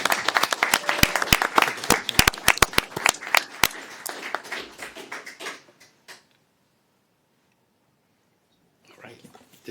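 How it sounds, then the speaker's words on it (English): Audience at a city council meeting clapping in a dense burst of applause for about five seconds, then fading to silence before faint shuffling returns. "Let's give Sean a big round of applause."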